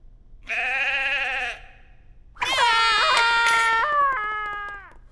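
A cartoon roast sheep's head bleats twice, a short wavering bleat followed by a longer, louder, quavering one that trails off, close and prominent over a quiet background.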